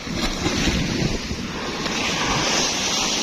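Sea waves wash against a raised seawall along the Virac boulevard, a steady loud roar of surf mixed with gusty wind buffeting the microphone, close by, with no one speaking.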